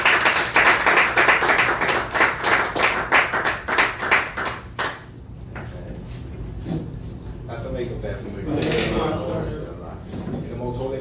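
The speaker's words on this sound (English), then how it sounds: "let's bring him up to this rostrum with a warm round of applause" A warm round of audience applause welcomes student coordinator Brother Chad Muhammad to the rostrum at a Nation of Islam gathering, with dense rhythmic clapping that thins out halfway through as voices and room noise take over.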